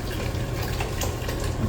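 Stock is scooped from a smaller pot and poured into a chinois strainer, a loud, close rush of splashing liquid that runs unbroken for a moment with no voices.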